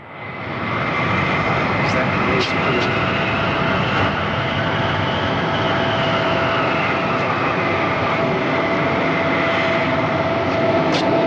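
An airplane arriving in New York roars steadily with a broad, sustained engine drone, loud and continuous from start to finish.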